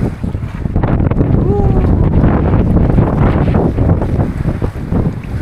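Strong wind buffets the microphone in heavy, roaring gusts, with water and a boat moving underneath during a sea crossing to an island in Guimaras, Philippines.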